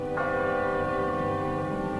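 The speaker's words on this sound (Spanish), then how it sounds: "escuchó muy suavemente el repicar de las campanas" A church bell rings with one clear strike, its sustained metallic tone and overtones decaying slowly over about two seconds.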